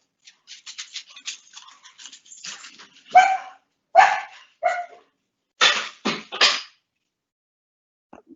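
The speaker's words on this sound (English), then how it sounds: "That's my dogs you heard in the background." Pet dogs indoors bark in the background: a scatter of soft yaps followed by about five louder, sharp barks in quick succession, then quiet.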